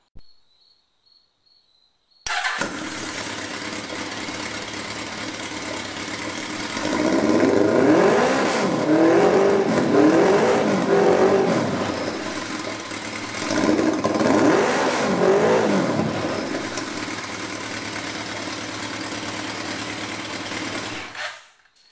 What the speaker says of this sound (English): now I'm just going to fire it up, see what it sounds like with this cutout pipe